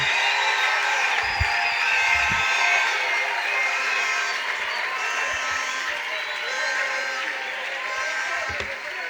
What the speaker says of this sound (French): vous deviez applaudir très fort